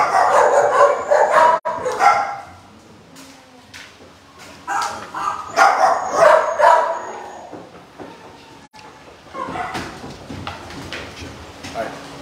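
Several dogs bark and yip in an animal shelter room, loud bursts near the start and middle with quieter stretches between, mixed with a person talking over them.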